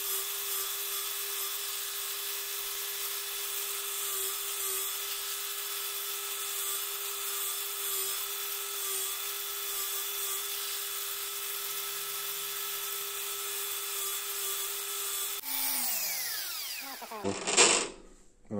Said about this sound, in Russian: Давайте попробуем 12-е сверло.